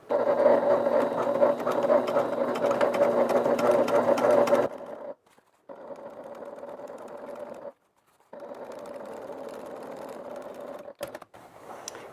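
A sewing machine stitches a bag seam with a steady loud whirr for several seconds, then runs in shorter bursts separated by brief pauses.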